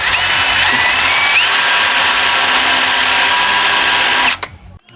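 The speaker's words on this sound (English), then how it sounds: "drew some dots so I can see where to drill" A power drill whirs loudly and continuously at high speed for several seconds, then winds down abruptly near the end.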